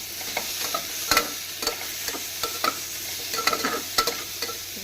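Dry chili and five-spice tempering in hot oil for khichdi, a steady sizzle with scattered sharp crackles and stirring clinks, close and continuous without talk.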